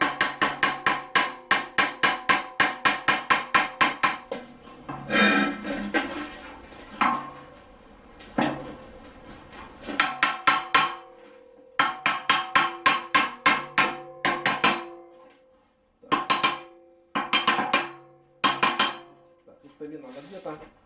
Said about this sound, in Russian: Одеваем крестовину на барабан, я уже положил, молоточком достукиваю